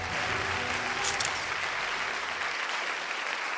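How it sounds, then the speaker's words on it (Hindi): A crowd claps steadily throughout a prize announcement, a dense wash of applause that holds its level before easing slightly at the end. "टीम रिंगमणि के लिए तालियां बजाइए।"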